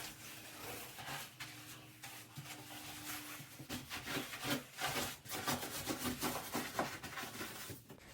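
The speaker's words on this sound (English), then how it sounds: "I just like to take a sponge and go back over it one more time" A sponge scrubs soap scum off bathtub wall tile in quick repeated rubbing strokes, close and steady, with the rhythm picking up toward the end.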